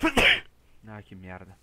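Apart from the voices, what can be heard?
sneeze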